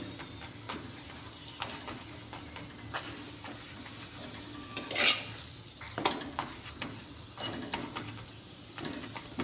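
A sattu-stuffed paratha fries in oil in a pan, soft sizzling under scattered clinks and scrapes of a utensil against the cookware, with a louder burst of sizzle midway.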